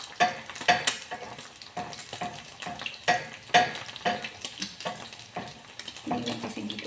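Breakfast food frying in a pan, a steady sizzle broken by repeated scraping stir strokes at an uneven rhythm, close and without talk.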